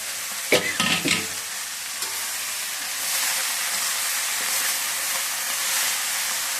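Ponnanganni greens tipped into a hot pan and stirred, for a Tamil keerai poriyal: a few loud clattering thumps of greens and spoon at the start, then a steady close sizzle and hiss of frying with no talk.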